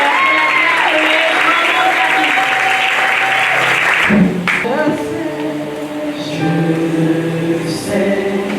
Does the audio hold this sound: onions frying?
no